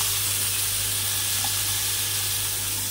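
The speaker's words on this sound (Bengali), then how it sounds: "মাছগুলো একটু হালকা করে ভেজে নেব" Fish fry in oil in a pan, giving a dense, even hiss and sizzle that holds steady and close throughout with no breaks.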